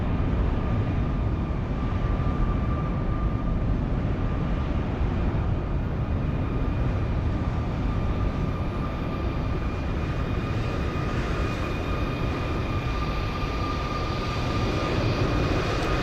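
An airliner, an ATR 72 in a flight simulator, takes off with a steady, loud turboprop engine roar and sustained tonal whine running unbroken throughout, with no voices.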